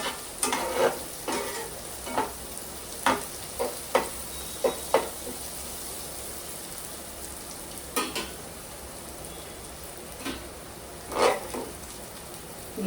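Onions for a fish curry fry in a pan with a soft continuous sizzle, punctuated by irregular scraping and tapping strokes as they are stirred, fairly faint and close, no talking.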